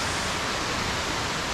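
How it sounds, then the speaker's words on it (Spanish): A waterfall tumbles over limestone rock formations in the canyon at Tolantongo, making a steady, dense, broadband rush of water that stays even and unbroken throughout. "tienes una caída aquí en esta cascada de formaciones de roca caliza"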